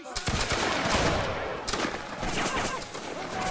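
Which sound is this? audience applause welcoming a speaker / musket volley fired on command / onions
musket volley fired on command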